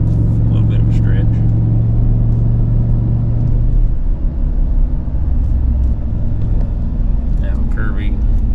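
A Ford 7.3 gas V8 in a Tremor pickup pulling a heavy load uphill, a loud steady rumbling drone that shifts pitch with a gear change, with people talking over it.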